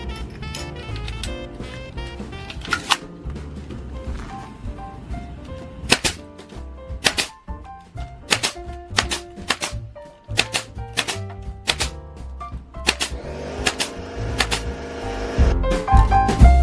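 A brad nailer drives 1-inch nails into a small wooden ornament Christmas tree, giving sharp, loud, irregular snaps, some in quick bursts and others spaced apart, over a background of clattering and handling noise.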